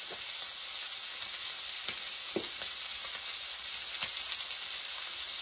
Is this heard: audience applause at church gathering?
no